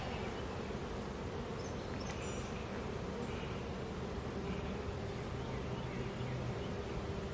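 Honeybees hum steadily around an open hive, a dense close drone that holds for the whole stretch with faint outdoor background underneath.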